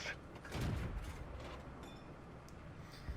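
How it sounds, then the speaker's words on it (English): Heavy tank cannon fire in World of Tanks, aimed at a KV-1: a loud booming shot with a rumbling tail early on, then a quieter stretch of battle noise, with no voices. "Tries to pop that KV-1 one more time, but I'm pretty sure his shot was off"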